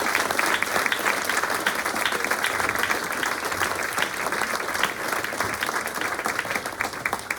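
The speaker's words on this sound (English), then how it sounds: "We're going to give one final round of applause for all of our inductees." A high school auditorium crowd gives a final round of applause for distinguished alumni inductees, a thick unbroken clatter of many hands, loud and steady from start to finish.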